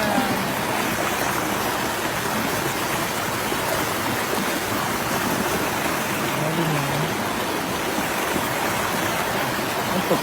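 A waterfall pours steadily, a dense, continuous rushing roar close by with no pauses, and faint voices barely surface beneath the water.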